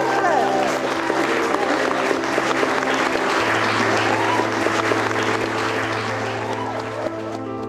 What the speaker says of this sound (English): if we can have a large round of applause for the new Mr. and Mrs. Mullis